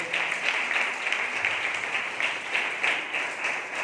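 A congregation claps during a Sunday church service, sustained dense applause from many hands, loud and continuous throughout.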